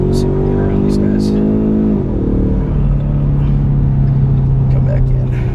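A 2015 Ford Mustang EcoBoost automatic accelerates hard to overtake, its engine droning loud and steady, pitch climbing and dropping at a gear change before settling into a sustained higher note amid road noise.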